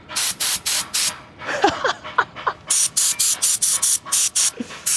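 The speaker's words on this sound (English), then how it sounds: "You can use these air compressors to get the sand off you." Compressed-air blower at a Korean beach blasting sand off a person, a series of about a dozen loud, sharp hissing bursts in steady rhythm, with a brief pause in the middle where faint voices and other sounds come through.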